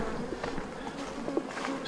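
Honey bees hum around a hive colony holding plenty of nectar, a soft, even buzz at close range with a few individual bees passing nearer.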